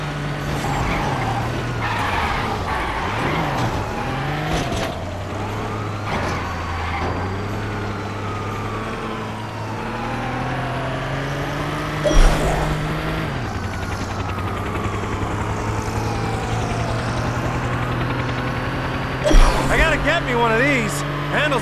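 A car speeds through a Gangstar Vegas mission, with a steady engine drone and rising and falling gear-change sweeps, occasional impacts, and game dialogue spoken over the driving.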